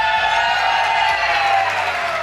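A crowd at a CS:GO LAN finals event cheers for Cloud9, a dense, loud, sustained roar of voices and whoops that fills the whole moment.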